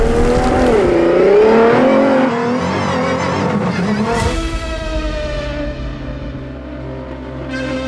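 A Toyota GAZOO Racing rally car charges through a Dakar Rally stage, its engine revving loud and close with rising and falling pitch and continuous tire and road roar, and no voices.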